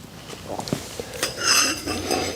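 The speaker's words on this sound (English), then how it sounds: "You use the supplied wrench to tighten it." A supplied wrench tightens a propane hose fitting onto a Bravex weed burner torch, giving a few quick close metallic clinks and scrapes, followed by a brief hiss of gas.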